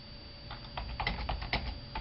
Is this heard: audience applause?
no